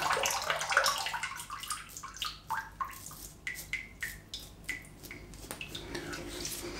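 Water rinsing off after a wet shave, with a series of short, separate splashes and drips close by, falling into a regular rhythm after an initial rush of running water.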